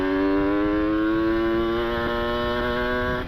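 A two-stroke motorcycle engine braking with the throttle fully closed gives a steady, close droning whine whose pitch slowly sinks while it coasts.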